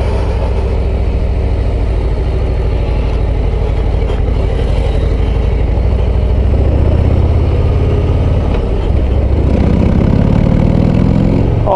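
A Harley-Davidson Street Glide ST motorcycle engine idles with a loud, close, throbbing rumble, then revs briefly near the end before settling back.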